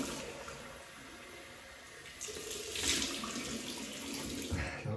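Water runs from a tap to rinse alum off freshly shaved skin, a steady gush that swells and splashes as hands move through the flow, with no talking.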